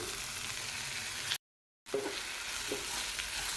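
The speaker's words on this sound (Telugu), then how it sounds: "అన్నీ కలిసే విధంగా కలుపుకోవాలి" Small ash gourd pieces stirred into a frying pan, a steady close sizzle with soft scraping, broken by a half-second gap of total silence.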